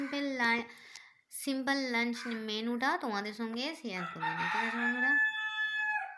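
A rooster crows loudly and close by in a rising, drawn-out call, with clucking fowl around it, as someone talks over the crowing.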